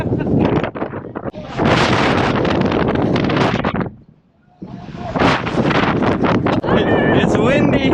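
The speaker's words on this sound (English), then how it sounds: "It's windy." Strong gusts of wind roar across a hilltop in Morocco's High Atlas mountains, buffeting the microphone in loud, broadband bursts with a brief lull midway before the blustering returns.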